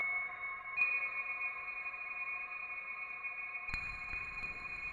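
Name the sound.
formant effect on the RingZ module in Tera Pro synth app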